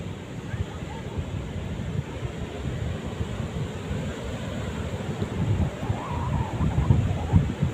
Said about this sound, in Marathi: एकदम मस्त थंडी हवा येते